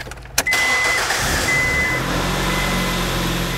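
A car engine cranks briefly and catches after an exhaust repair, then settles into a loud, steady idle with a rough, throaty exhaust drone and a faint high whine, close by with no talking.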